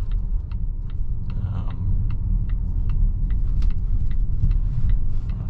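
Cabin of a 2022 Volvo XC90 T6 Momentum driving over bumpy back roads: a low, steady road rumble with repeated sharp knocks and rattles from bumps at irregular intervals, no voices.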